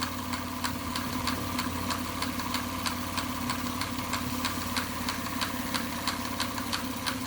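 An OKMO model steam engine driving a DIY fountain built from plumbing parts, fed by a 4-inch MSM boiler, chuffs in a fast, even rhythmic beat over a steady mechanical hum, close and continuous.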